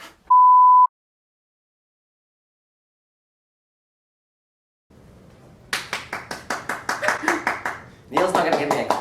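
After a short electronic beep and a long silence, a small group claps near the microphone in a quick burst of distinct, uneven claps, with voices heard at the end.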